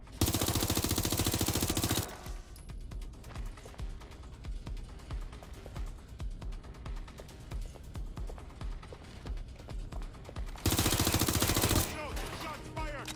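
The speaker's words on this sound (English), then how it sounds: "Shots fired!" Rapid bursts of gunfire in the video game Watch Dogs Legion, loud dense automatic volleys opening and closing the stretch, with scattered shots, game music and effects between them.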